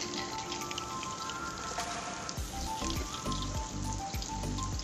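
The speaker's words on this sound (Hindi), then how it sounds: "मैं इसे मीडियम टू लो फ्लेम पर फ्राई कर रही हूँ।" Potato kababs shallow-fry in a pan over a medium-to-low flame, giving a busy, close patter of spitting oil with a few low bumps and clatters near the end.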